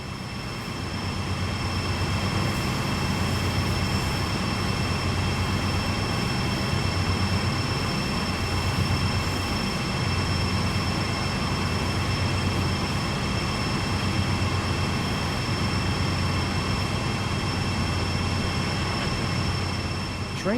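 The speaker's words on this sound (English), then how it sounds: "You are currently riding an AC 4400 CW locomotive." A GE AC4400CW diesel locomotive on the Sand Patch Grade in Train Sim World 2 rumbles steadily with a constant engine drone and a faint high whine, continuous and unbroken throughout.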